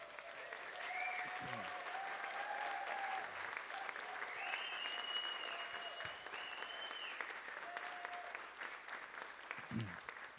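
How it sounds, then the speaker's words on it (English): An audience applauds for Dr. Maggie Rivas Rodriguez at a 25th anniversary plenary session, a steady, sustained round of clapping that fills the room for about ten seconds, with a few voices and cheers mixed in. "How about a round of applause?"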